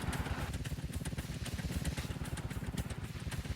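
Homemade square-based vehicle in Scrap Mechanic driving slowly through a forest, its engine giving a steady, rapid chugging pulse with a rattling rhythm, close and continuous throughout.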